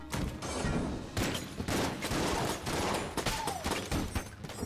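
Shotgun fire in the video game Enter the Gungeon, dense overlapping blasts in a sustained loud barrage with short dips between bursts.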